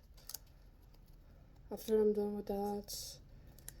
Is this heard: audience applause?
no